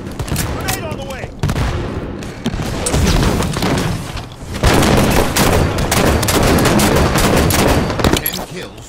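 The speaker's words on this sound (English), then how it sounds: "Grenade on the way!" A grenade explodes in an arena slayer match of the Halo 5 shooter game, amid loud, dense bursts of rapid gunfire and heavy booms that swell and continue throughout.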